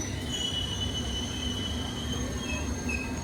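A steady, loud rumble of a Paris or Berlin underground train at a platform, with faint high-pitched wheel squeals and whines over the continuous roar, no voices.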